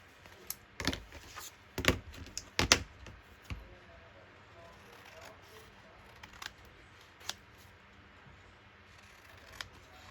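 Scissors cut paper for junk journal tags with several crisp, close snips in a quick burst early on, then sparser, quieter snips and handling.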